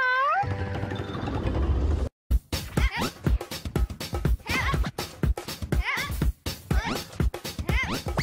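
A performer on a children's TV show about pets imitates a cat with a long, drawn-out, gliding meow. A lively run of rapid, bright vocal sounds in a similar cat-like style follows without a break.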